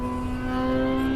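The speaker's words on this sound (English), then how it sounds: "He's leaning over and he's revving that motorcycle." A motorcycle revs as it weaves in and out of traffic, a steady loud engine drone with a strong constant tone, continuous and close throughout.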